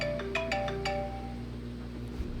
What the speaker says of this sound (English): Love when I get phone calls that interrupt me.